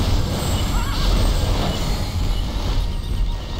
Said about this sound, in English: whoa, so many horses